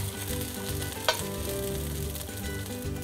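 Zucchini fritters fry in a hot pan with a steady, dense sizzle and crackle throughout, close and fairly loud, with one brief sharper pop partway through and no talking.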